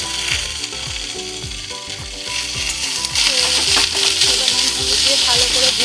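Kenduli sizzling as it fries in a pan with salt and turmeric, a steady close crackle under a loud repetitive ratcheting, clicking pattern.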